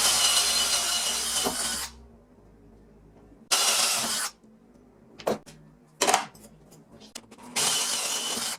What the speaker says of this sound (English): I cut these with a hand drill and a plug cut-in bit.